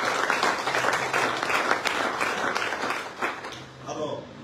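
A church congregation breaks into loud, sustained applause and acclamation for the king, fading near the end.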